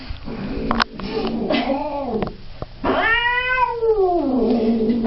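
An angry domestic cat lets out close, drawn-out yowls and low growls, several rising and falling caterwauls in a row with short breaks between them, heard alone.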